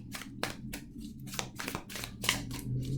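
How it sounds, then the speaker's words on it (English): A deck of tarot cards being shuffled, with a run of crisp riffling bursts repeating at an uneven pace, close and fairly quiet. "I'm going to do 3 more shuffles."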